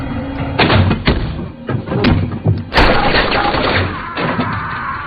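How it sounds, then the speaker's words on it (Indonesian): A film gunfight with bursts of gunfire and heavy impact thuds, loud and irregular, several sharp shots clustered close together over a dense action soundtrack. "Lantas yang terjadi selanjutnya, aksi baku tembak pun tak dapat terhindarkan lagi"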